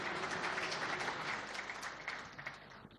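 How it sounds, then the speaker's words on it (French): An audience at a China–DRC media forum in Kinshasa gives warm applause. Dense clapping fills the moment, then thins and fades toward the end. "Je vous propose de les accueillir par un tonnerre d'applaudissements"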